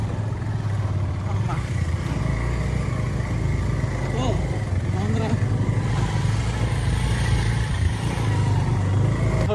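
Motorcycles ride along a rough rural road toward a waterfall, and a loud, steady engine drone fills the whole stretch while riders talk over it.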